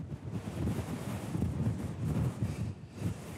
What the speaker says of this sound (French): Mais le vent complique les choses.